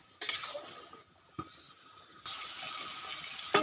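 Water is poured into chicken curry cooking in a pan, bringing bursts of hissing and splashing over a faint simmer, with a few soft clanks of a utensil.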